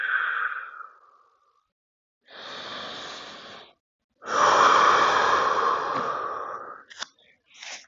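Slow, deep breaths taken during a seated stretching routine, heard as separate long, close inhales and exhales with quiet pauses between them and a few short sniffs at the end.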